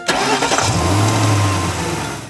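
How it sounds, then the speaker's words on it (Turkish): A car engine cranks and catches, then settles into a steady, low idle rumble, close and loud with no talking. "Araba çalışırken işte böyle ses çıkarır."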